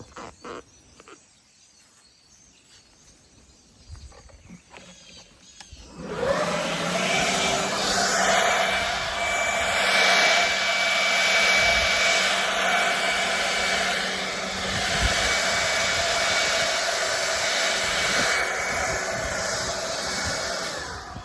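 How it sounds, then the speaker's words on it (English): A leaf blower starts up after a quiet stretch and blows garden debris from cleared okra plants, a loud, close, steady whooshing roar that holds for the rest of the clip. "Okay, I'm not going to try to pick up all of that. I'm going to just blow it out."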